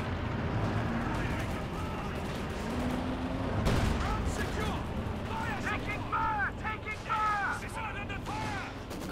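Tank battle in Company of Heroes 2 during a 1v1 match: repeated gunshots and explosions as a Panther tank takes hits from shots and anti-tank grenades, loud beneath continuous talk.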